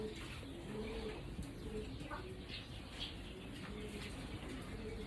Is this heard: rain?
no